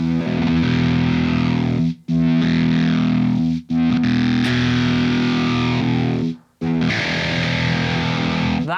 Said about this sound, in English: that's how I can kind of get that filter sweep